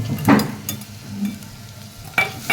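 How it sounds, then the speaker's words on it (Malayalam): A spoon stirs fish curry in a pan with a few scraping and clinking strokes over a low simmering sizzle, loudest in short bursts at the start and end. "അത് നമുക്ക് നന്നായി ഒന്ന് മിക്സ് ചെയ്തെടുക്കാം കേട്ടോ"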